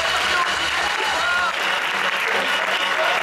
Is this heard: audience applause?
yes